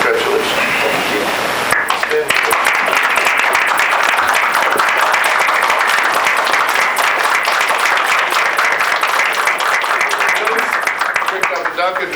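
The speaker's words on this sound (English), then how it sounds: "they're clapping extra loud" An audience at a board of directors meeting claps loudly, a dense, sustained round of applause that starts abruptly after a quiet moment and continues strongly for over ten seconds.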